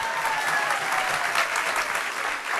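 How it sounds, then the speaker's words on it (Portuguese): An audience breaks into applause, a full, even burst of many hands clapping at once, loud and sustained for the whole moment with no speech over it. "deves dar um aplauso bem grande a ti mesmo"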